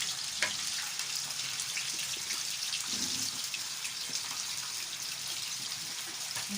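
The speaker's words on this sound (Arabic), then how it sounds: "وادي البطاطس يا حبايب قلبي الزيت سخن اهو" Potatoes frying in hot oil give a steady, dense sizzling hiss that stays even and continuous throughout, with faint crackles and pops inside it and no talking.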